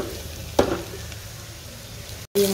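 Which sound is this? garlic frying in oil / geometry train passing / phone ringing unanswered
garlic frying in oil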